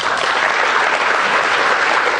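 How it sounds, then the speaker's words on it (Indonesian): A dense, loud burst of audience applause fills a motivational training session for high school students preparing for exams, with no voices over it. "Syahwala, tepuk tangan dulu buat Azza."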